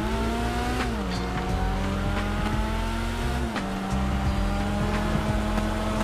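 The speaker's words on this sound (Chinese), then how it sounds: "我们要试试看急转弯，打滑" A Mini John Cooper in GTA 5 skids through a sharp turn, with a steady engine drone and squealing tires that hold and shift in pitch, loud and close throughout.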